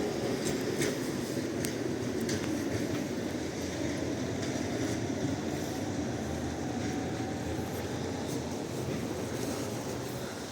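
A number 2 tram rumbles steadily uphill past nearby on a snowy Lviv street, wheels clattering on the rails with a faint squeal, sustained and fairly loud throughout.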